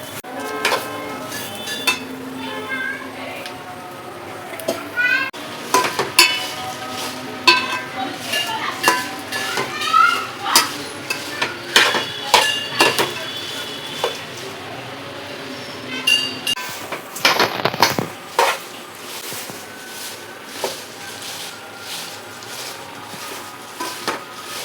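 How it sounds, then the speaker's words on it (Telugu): Garlic and chili karam frying in a pan while being stirred, with repeated scraping and clinking of a utensil against metal over a faint sizzle, irregular strokes close up. "అట్లా కలుపుతూనే ఫ్రై చేసుకోవాలి, అప్పుడు ఈవెన్గా ఫ్రై అవుతాయి అన్నీ."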